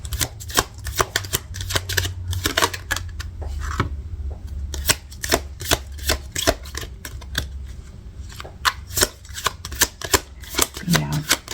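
Tarot cards shuffled by hand in a steady run of crisp riffling and tapping, close and fairly quiet, continuing without a break.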